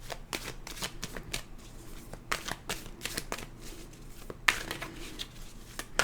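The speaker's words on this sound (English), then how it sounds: "they just don't want to be shuffled, so we won't shuffle anymore" Tarot cards are shuffled up close in a quiet room, a series of crisp riffling snaps and soft slaps in uneven bursts, with no talk.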